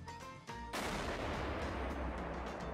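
Loud, booming Minecraft tank cannon blasts and heavy explosions fill the clip, with a sharp onset followed by sustained rumbling destruction.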